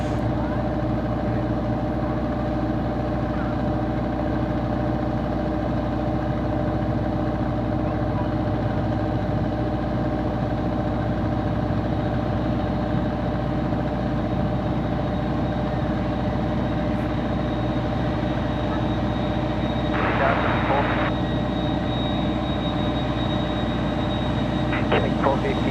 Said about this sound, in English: We're going to get a really nice shot of the A330 head on here as it vacates the runway to the left.